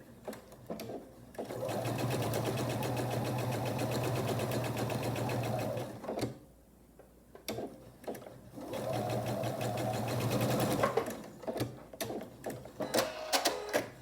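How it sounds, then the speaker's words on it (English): A sewing machine stitches a sailboat quilt block in two steady, close bursts of rapid whirring, each about four seconds long, broken by a short pause. Soft handling noises follow at the end. "I'll be sewing basically on the line just a thread's width to the right of that line."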